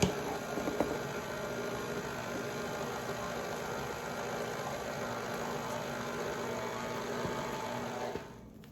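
A KitchenAid stand mixer beats cookie dough as flour is added, giving a steady, even motor hum with a low mechanical drone that runs without a break, then cuts off abruptly just before the end.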